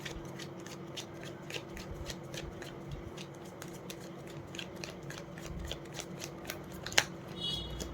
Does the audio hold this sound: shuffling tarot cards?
yes